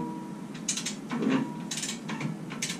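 A wrench ratcheting on the driver side axle of a Jeep TJ, a few short bursts of clicking pawl action close by, separated by brief pauses.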